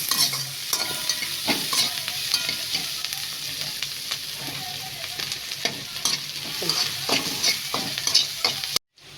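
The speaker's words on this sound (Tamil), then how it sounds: "வெட்டி வச்சுருக்கிற வெங்காயம், வெங்காயம் வதங்கணும்." Chopped onions sauté in a pan for ghee rice, a steady sizzle under repeated scraping stirs and sharp clicks of a utensil against the pan, close and continuous before a brief drop near the end.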